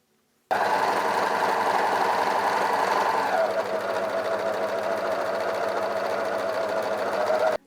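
An overlocker stitches fabric pieces of a skirt together in one steady, loud mechanical whir that starts abruptly, hums continuously with a slight drop in pitch midway, then cuts off.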